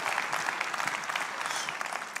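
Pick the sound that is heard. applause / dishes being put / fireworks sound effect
applause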